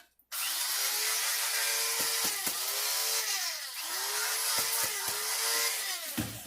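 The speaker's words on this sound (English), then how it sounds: "Pop it into the little grinder thing." A small electric grinder whirs loudly as it grinds dried leaves into filé powder, a steady high-pitched motor whine with its pitch dipping briefly under load several times, close and continuous.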